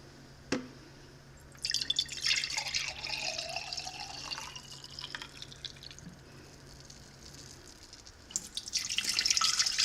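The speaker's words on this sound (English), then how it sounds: "to this saucepan, I'm gonna add 1 pint of white vinegar." A pint of white vinegar is poured into a saucepan for dill-pickle brine: a steady liquid splashing and trickling runs for several seconds at close range, eases off, then picks up again with no talking.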